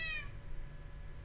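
A Minecraft cat gives a single short, high meow right at the start, then only quiet background hum remains.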